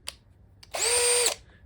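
Cordless drill on its higher speed setting spinning up for about half a second of steady, loud, high-pitched whirring, then stopping, with brief clicks before.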